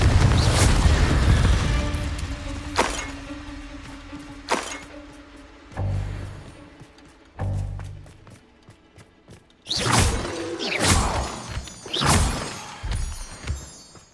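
Combat spells cast in the Hogwarts Legacy video game: a string of loud magical booms, bursts and whooshes, several separate blasts spaced a few seconds apart with shattering impacts and rumbling decays, no voices.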